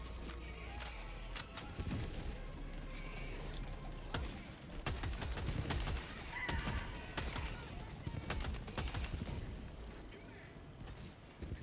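A gun in the Helldivers 2 shooter game being emptied in a long magazine dump, rapid repeated shots and thuds mixed with clatter, moderately loud, with a voice talking faintly underneath.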